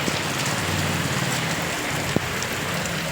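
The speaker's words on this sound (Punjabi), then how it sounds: "ਬਹੁਤ ਜ਼ਿਆਦਾ ਮੀਂਹ ਪੈ ਰਿਹਾ" Heavy rain pouring down during a downpour over paddy fields in Punjab, a dense continuous hiss of falling water with one sharp knock partway through.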